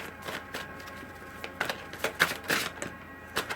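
Soft, quick riffling and slapping of tarot cards being shuffled, an irregular patter of light flicks close by and fairly quiet.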